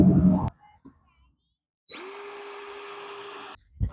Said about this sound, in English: the next thing we've got to do is drill our holes